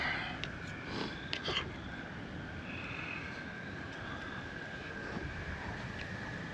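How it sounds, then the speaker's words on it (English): Wind gusting outdoors at a van camp, a steady broad rumble and hiss with a few stronger buffeting gusts near the start, loud and close against the microphone with no talking. "it's windy out here"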